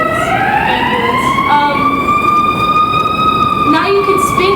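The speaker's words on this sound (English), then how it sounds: "Sorry, ambulance." A passing ambulance siren wails loud and near outdoors, one long sustained tone sliding gradually upward over steady road rumble, with a brief dip near the end.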